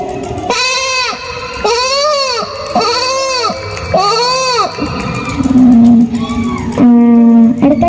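A performer's voice mimics a sheep at a stage comedy show, producing four loud, wavering bleats in a row, followed by two lower, drawn-out calls.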